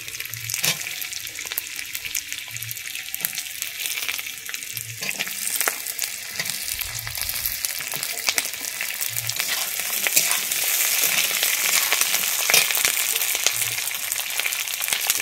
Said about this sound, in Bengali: আমি এখানে বেশি পেঁয়াজটা ভাজবো না, এমনি হালকা ভেজে নিচ্ছি